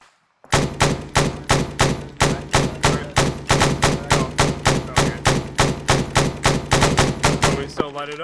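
Loud gunfire in Arma 3 hammers out in a fast, regular burst of about two dozen evenly spaced shots after a brief silence, ending on a rougher blast that fits a launcher shot.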